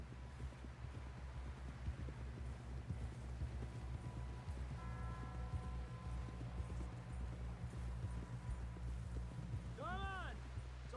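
Steady clip-clop of horse hooves at a trot runs throughout, close and rhythmic, with a brief whinny near the end, in the video game Red Dead Redemption 2.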